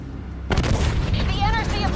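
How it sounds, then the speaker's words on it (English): A missile barrage in Call of Duty: Black Ops 3 lands as a sudden loud boom that swells into a sustained rumbling roar of explosions, close and heavy, with a voice briefly over the din. "Launched a missile barrage."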